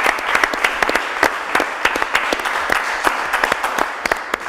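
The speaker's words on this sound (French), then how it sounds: "applaudissons!" A television studio audience applauds in a brisk, sustained burst of many hands clapping, with sharper individual claps standing out above the crowd.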